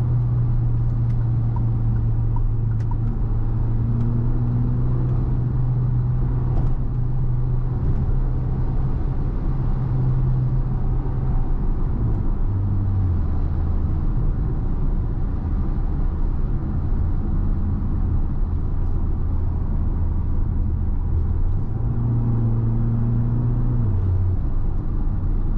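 Fiat Fastback Abarth accelerating hard, a steady, loud engine drone with rising and falling tones as the car gains speed, continuous throughout with no talk.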